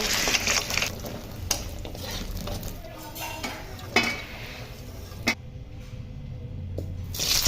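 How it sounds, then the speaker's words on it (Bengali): Lentil bori fry in mustard oil in a wok over medium flame: a continuous close sizzle broken by a few sharp utensil clicks and scrapes against the pan. "কড়াইয়ে সর্ষের তেল দিয়ে গরম হলে ফ্লেম মিডিয়ামে রেখে বড়িগুলো ভেজে তুলে নেব"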